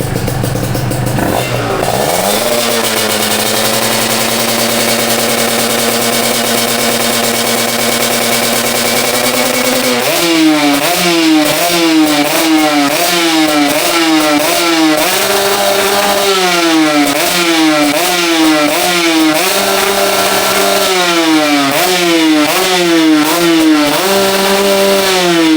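Motorcycle engine revving through an AHT aftermarket muffler exhaust, loud and close, holding a steady idle before repeated quick throttle blips rise and fall in a rhythmic pattern, with a slightly deeper bass note.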